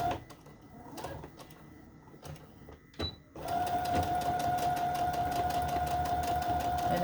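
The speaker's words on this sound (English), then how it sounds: "So with the straight stitch, I am going to just go around it all the way around." A sewing machine runs a straight stitch through fabric and lace. A few short bursts of stitching come first with pauses between them. Then the machine settles into a loud, steady, fast whir that carries on to the end.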